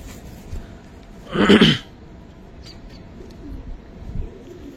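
A female Giribaz pigeon gives a single short coo up close, a brief rounded burst rising out of an otherwise quiet room.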